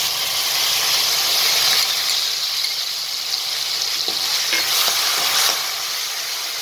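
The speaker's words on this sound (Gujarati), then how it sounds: "વરિયાળી અને જીરું, એ નાખીશું આપણે। એને પહેલાં 1 સેકન્ડ માટે શેકી લઈશું। આદુ મરચાંની પેસ્ટ નાખીશું।" Fennel, cumin and ginger-chili paste roast in hot oil for a Punjabi patti samosa filling, making a loud steady hiss and sizzle with occasional spoon stirs and clinks nearby, and no one speaking.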